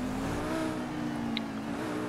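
A Lamborghini Sian cruises along in GTA V, its engine humming at a steady, moderate pitch throughout, with a brief high chirp partway through and no voices.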